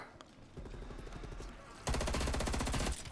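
Automatic gunfire from a gun in Call of Duty: Black Ops Cold War, a loud sustained burst of rapid shots near the end, following quieter rhythmic game sounds.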